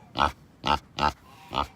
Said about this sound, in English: Excuse the pig noise.